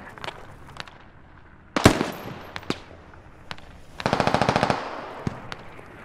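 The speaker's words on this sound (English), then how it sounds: "Just keep shooting them and clearing them." Gunfire in the military shooter game Squad: scattered single shots, one loud close blast, then a rapid automatic burst of around a dozen rounds, with more isolated shots after.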